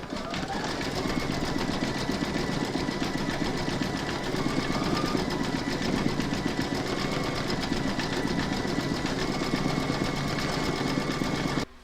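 Computerized embroidery machine stitching a fan pattern on a quilted crazy-patch evening bag, a steady, fast mechanical whirr with rapid needle clatter running continuously and close up, stopping abruptly at the end.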